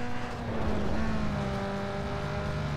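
Car engine in Need for Speed Underground 2 runs at high, strained revs, a loud steady drone with a held pitch and slight variation across the clip.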